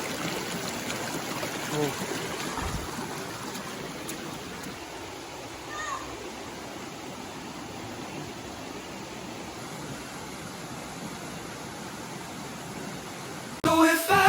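Water from Bilog Falls and its stream rushes in a steady broadband wash throughout. A brief exclamation and a clatter of handling noise come near the end.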